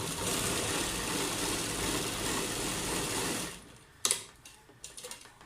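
A sewing machine stitches palazzo lining with a steady, close, humming whir for about three and a half seconds, then stops, followed by a sharp click and a few light handling taps.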